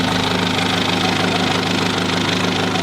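A Perkins Prima 50 diesel engine aboard an Oceanis sailboat runs steadily at idle, loud and close, with a constant droning rumble and no voices.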